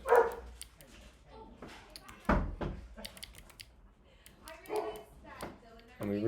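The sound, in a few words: dog barking outside an office door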